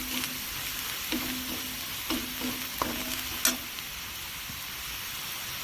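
A spoon stirs a spiced mixture of red chilli powder and black masala in a hot pan, giving a steady frying sizzle broken by a few distinct scraping knocks against the pan, close and moderately loud.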